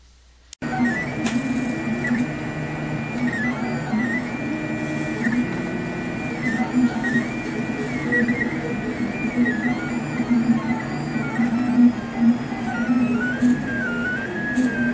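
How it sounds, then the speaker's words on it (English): A 3D printer runs continuously, giving a steady mechanical hum with whirring stepper-motor tones that rise and fall as the print head moves. It is close and fairly loud, with no voices. "I'm just going to go ahead and send that to the printer."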